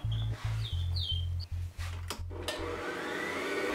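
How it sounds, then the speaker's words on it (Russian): A meat grinder with a coarse 10 mm plate mincing meat for homemade sausage gives a close, steady motor whir with a faint pulsing grind, with no talk. "Мясо пропущу через мясорубку с крупной решеткой."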